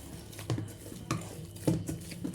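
Parotta dough being kneaded by hand with oil, soft wet squelches and slaps landing in an uneven rhythm, roughly three firm pushes against a bowl or surface, close and quiet with no talk.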